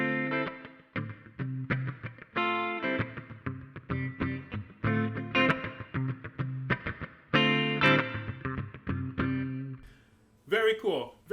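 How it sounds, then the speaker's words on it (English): An electric guitar runs through the boost and reverb of a Tech 21 Fly Rig 5, with driven chords and single notes ringing out in phrases for about ten seconds. Someone speaks briefly at the end. "And then let's activate the boost reverb."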